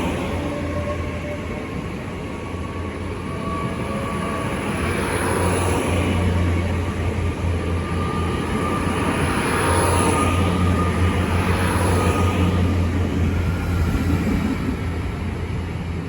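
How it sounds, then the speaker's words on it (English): A Great Western Railway passenger train from Swansea to London Paddington departs Reading station, a steady rumbling drone that swells and then holds at a moderate distance, with no talking. "Now departing is the 11:51 Great Western Railway service from Swansea to London Paddington"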